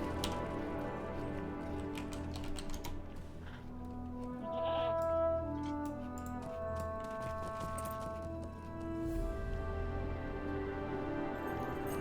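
Goats in the fantasy online game The Lord of the Rings Online bleat several times over a soft ambient game background, fairly faint, with no speech.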